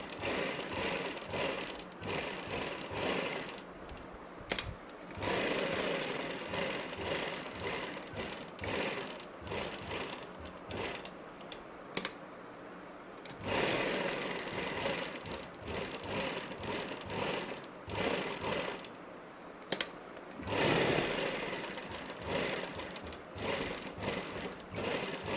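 Sewing machine stitching a curved seam on salwar fabric for a cut-work poncha, running in steady bursts of rapid needle chatter with brief pauses between runs, close and fairly loud.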